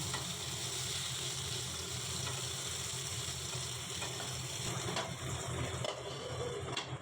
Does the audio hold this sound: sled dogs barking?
no